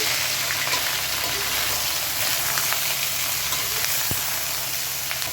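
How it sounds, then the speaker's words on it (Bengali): Cauliflower florets frying in hot oil in a wok give off a dense, continuous sizzle that stays close and loud throughout, with one sharp tap partway through. "আমার কড়ার তেলটা গরম হয়ে গেছে। এবার আমি ফুলকপিগুলো ছেড়ে দিচ্ছি।"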